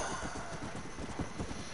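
A horse gallops at full speed in a Western video game, its hooves pounding in a fast, steady rhythm that comes through close and prominent.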